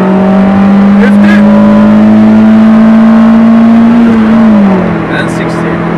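A Mitsubishi Colt (Mirage) accelerates hard in second gear, heard from the cabin: a loud steady engine drone climbs in pitch for several seconds, then eases off as the revs drop.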